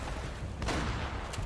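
Shotgun blasts in the video game Uncharted: Drake's Fortune, two sharp bursts close together over a busy layer of combat noise, with no talk on top.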